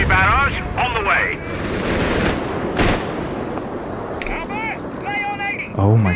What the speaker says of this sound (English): Artillery barrage on the way.